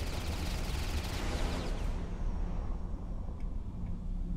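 Small missiles fire and explode in a Starsector space battle as a loud, dense barrage of rapid blasts and crackles that thins out and fades into rumbling echoes partway through.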